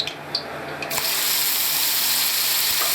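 Onions hit hot ghee in a pan for aloo curry, bursting into a loud, steady sizzle after a quieter start, close and continuous with no talking.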